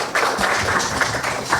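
An audience claps at a project presentation during a developer showcase, a brief, dense burst of applause from a room of people, steady and fairly close, with no voices over it.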